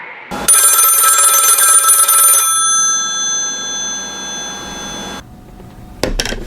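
An old telephone bell rings loudly for a couple of seconds in a radio play, its ringing tone lingering and fading before a clunk and a second brief burst.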